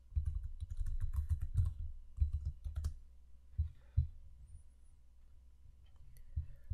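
Someone types a passphrase on a computer keyboard: quiet clusters of rapid key clicks in short bursts with brief pauses, close and soft in a still room.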